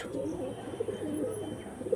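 Pigeons coo close by in soft, low, throaty murmurs that roll on continuously over a faint background hum.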